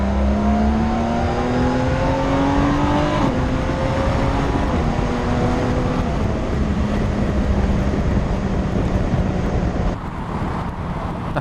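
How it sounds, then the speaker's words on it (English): A 2021 BMW K1600B motorcycle's deep, smooth inline-six engine drones steadily while rising and shifting through gears, with constant wind rush, loud and close, no talking. "Just listen to this engine."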